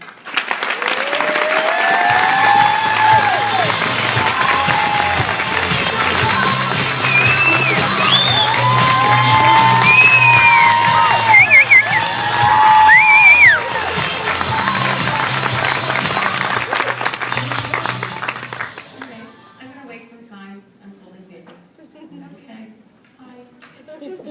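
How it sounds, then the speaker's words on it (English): A large audience applauds and cheers loudly for a cancer survivor speaker, sustained clapping with whoops and shouts for nearly twenty seconds before it cuts off abruptly into near quiet. "another big round of applause for Ms. Lockie Maisonneuve"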